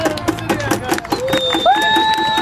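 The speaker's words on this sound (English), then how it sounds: "A round of applause for yourselves, please." A small protest crowd outdoors breaks into applause and cheering, with scattered claps and whoops close by, mixed with overlapping voices.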